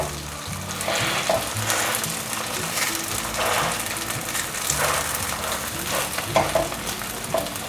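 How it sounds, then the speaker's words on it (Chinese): Batter pancake topped with bok choy fries in a pan, giving a steady, close crackling sizzle that runs unbroken with faint stirring-like surges, no voices over it. "现在把下面那一面煎成焦黄色，就可以翻面。"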